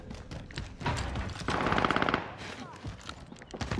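Rapid automatic gunfire from a weapon in the video game Warzone, loud bursts of repeated shots filling the mix with dense crackling, strongest in a sustained burst midway, with a voice chatting faintly underneath.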